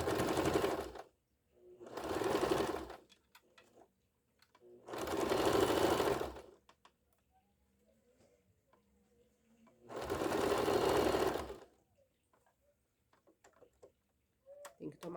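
A sewing machine stitches a synthetic leather wallet, running a safety seam along the edge in four loud bursts of steady whirring, separated by quiet pauses with faint handling clicks.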